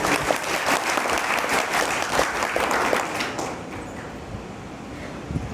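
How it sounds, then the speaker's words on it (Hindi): Loud applause from a crowd at a public awareness gathering in Assam, dense sustained clapping that fills the space before thinning and fading toward the end. "तालियां।"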